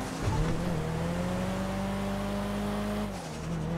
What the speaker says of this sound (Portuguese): Vou testar o carro aí, ô Andrés